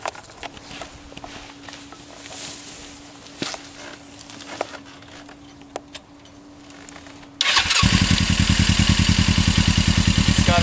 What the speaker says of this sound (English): I'm just gonna start it so you can hear how it sounds.